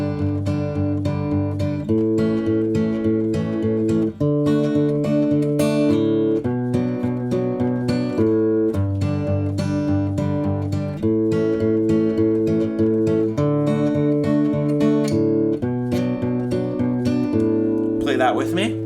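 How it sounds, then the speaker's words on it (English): An acoustic guitar strums the bridge chord progression of a song, steady rhythmic chords ringing full and close for the whole stretch, ending with a brief fretboard slide, no voice. "So if I play the bridge chord progression for you, it'll sound like this."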